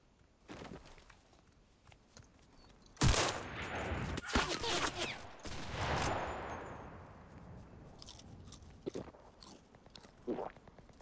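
Small rifle gunfire in a video game: quick cracking shots and a dense burst of firing in the middle, loud and close, with sparse clicks and sounds either side.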